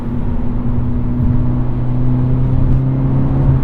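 A Hyundai Elantra N's exhaust and engine hum steadily, a loud, even low drone that holds a constant pitch throughout.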